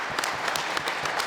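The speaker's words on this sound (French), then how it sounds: "et on s'applaudit" A short burst of group applause: steady, moderately loud clapping from a gathered crowd, continuous across the whole moment.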